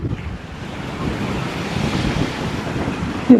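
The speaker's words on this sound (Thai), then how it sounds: "ลมแรงแท้" Strong wind buffets the microphone as surf rolls onto a beach in Rayong, Thailand, with a steady, loud roar and a brief thump at the end.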